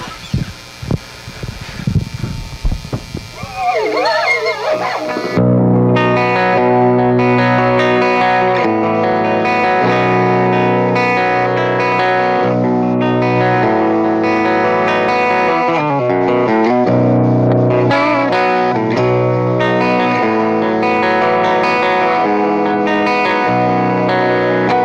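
A guitar amplifier set to its clean channel, miked with a Shure SM57 and a Heil PR20, rings out sustained chiming chords with a shimmering chorus-like effect, loud and continuous after a brief scratchy lead-in.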